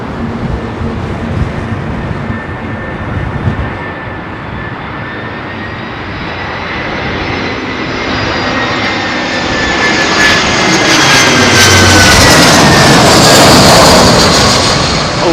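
An Airbus A318 jet airliner lands at London Heathrow in a crosswind, roaring steadily, its engine whine growing louder and fuller as it draws nearer, with no talking.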